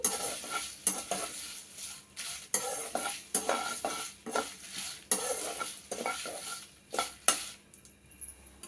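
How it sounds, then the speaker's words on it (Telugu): Dry red chillies roast in a dry pan without oil over a low flame, stirred with a spatula in a steady rhythm of scraping sweeps and light rattles, fairly quiet and close, with no voices. "ఈ ఎండుమిరపకాయలు వంద గ్రాములండి ఇది నూనె లేకుండా ఇలాగే లో ఫ్లేమ్లోనే బాగా వేగనీయాలండి"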